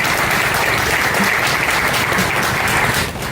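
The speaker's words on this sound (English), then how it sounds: "you stand up and give her a hand of applause" Crowd applause at an outdoor groundbreaking ceremony for a Dallas Zoo parking garage, loud and continuous clapping from many hands, close and even throughout, tapering slightly at the very end.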